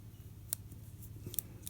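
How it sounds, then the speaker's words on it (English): Small scissors on a worn Leatherman Style CS keychain multitool, a few faint, crisp snips spaced apart over a quiet hum. "The scissors are kind of getting worn out."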